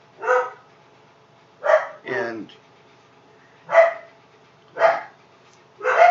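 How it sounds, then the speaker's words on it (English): Dogs bark inside a household in five short, sharp bursts spaced a second or two apart, close and loud against an otherwise quiet room. "hey guys, stop barking."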